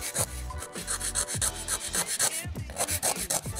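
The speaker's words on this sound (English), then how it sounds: "So we're gonna start out by just holding the file at an angle in the nail like this." A handheld file rasps against a square nail tip to reshape it, giving quick repeated back-and-forth strokes in an uneven rhythm, close and fairly loud with no talk.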